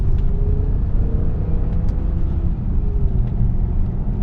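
Steady low engine drone from a BMW M5 with a V10 and SMG gearbox while driving, a continuous rumble heard from inside the car with a faint rising tone, no talk.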